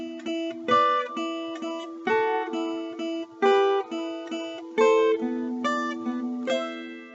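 Clean guitar plays a steady sequence of picked notes and chords, each one ringing clearly before the next, at moderate volume with no voices.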